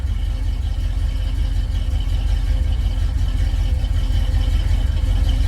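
A carbureted car engine idles steadily and loudly up close, a continuous low rumble with a faint whir, holding an even note throughout with no revving and no talk.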